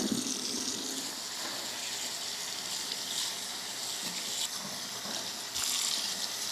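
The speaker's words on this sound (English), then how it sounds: "Nice cold water." Cold tap water runs steadily from a faucet over felted yarn, a close, continuous hissing gush with slight splashing changes as the yarn is moved under the stream.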